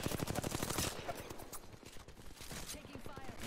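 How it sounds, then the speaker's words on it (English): Rapid gunfire in the battle royale shooter Apex Legends, dense bursts of repeated shots loudest in the first second, then continuing more sparsely amid game effects and chatter. "Taking fire."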